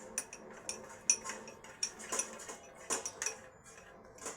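A spoon stirs arrowroot and water into a thin batter in a bowl, producing a quick, irregular run of light metallic clinks and scrapes at close range.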